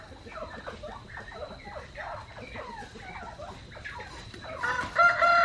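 Young quail chicks call in a backyard setting, a run of quick high trilling peeps repeating close by, growing louder and busier near the end alongside a faint steady tone.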